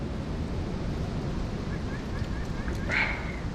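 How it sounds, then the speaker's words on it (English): Wind gusting across a microphone at an outdoor campsite, a steady low roaring rush that swells slightly toward the end, with a faint high chirp and a voice barely audible beneath. "Pardon the wind"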